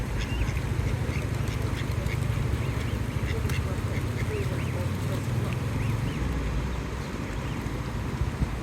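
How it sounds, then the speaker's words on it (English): Ducks eating swan food poured out for them at the water's edge in Dawlish, quacking repeatedly at close range over a busy outdoor background with a low rumble and a voice talking. "I've now got 2 ducks showing an interest."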